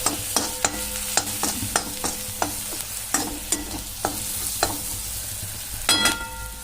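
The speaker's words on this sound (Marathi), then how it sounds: "आता आपला कांदा पण छान असा भाजला गेलाय।" Onion frying in a pan with turmeric and garam masala, a steady sizzle broken by repeated sharp scrapes and clacks of a spoon stirring against the pan, close and without voices.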